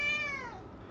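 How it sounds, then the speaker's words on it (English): A house cat gives a single drawn-out meow that slides downward in pitch, close and clear, and then fades into quiet room tone. "my cat's meowing at me"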